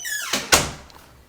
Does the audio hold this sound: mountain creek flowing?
no